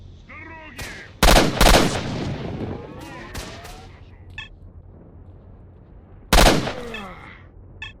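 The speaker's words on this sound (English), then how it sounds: "30 minutes only shooting those freaks." Gunfire at mutants in S.T.A.L.K.E.R.: Shadow of Chornobyl, sharp loud shots and short bursts in two clusters separated by a quieter stretch, close and punchy over low ambient noise.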